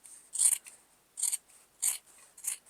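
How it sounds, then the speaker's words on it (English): Four crisp scissor snips trimming fabric on a mini quilt at a slow, uneven pace, close up, each a sharp bright cut with quiet gaps between. "you can just go ahead and take some scissors and trim that up"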